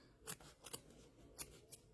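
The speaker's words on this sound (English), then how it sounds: "hold your fabric like I'm doing here with the scissors and just run that right underneath of there" Scissors snip through quilt fabric with four quiet, crisp cuts spaced irregularly over two seconds, with no voices.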